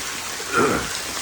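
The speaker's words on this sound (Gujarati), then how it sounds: "જો ધોધમાર વરસાદ આવ્યો છે ગાંધીગીરમાં" A heavy downpour with strong wind in the village of Gandhigir makes a brief, dense rushing hiss that swells slightly midway.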